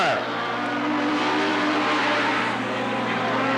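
Racing vehicles with a 1230cc Kawasaki and a 1200cc Yamaha engine at Riverside Speedway in 1991, loud engines roaring together in a steady dense drone, with a race announcer talking over them.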